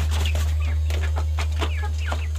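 Farm chickens cluck busily while eating feed, with overlapping close calls in a steady chatter over a constant low hum.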